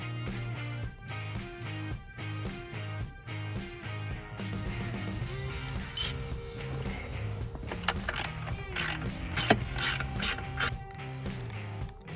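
A ratchet clicks in quick repeated bursts while bolts are tightened during installation of a new pool pump motor, sharp and close, with mechanical clanks from the handling of tools and parts.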